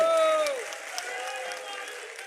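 A crowd at a political rally applauds, a broad wash of clapping and cheering heard at a distance, holding steady after a brief tonal sound at the start.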